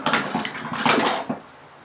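Teflon frying pan set down among other cookware, a short cluster of close metallic clatters and knocks that fade out after about a second.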